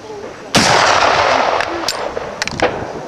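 Black powder firearms fired at a shooting range at Bisley, a loud close blast followed by a few sharper distant reports spread over about two seconds, with long rumbling decay.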